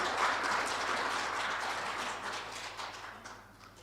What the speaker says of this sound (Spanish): Yo creo que se puede ganar un gran aplauso